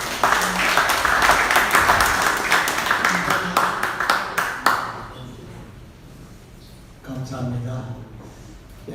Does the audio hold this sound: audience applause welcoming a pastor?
yes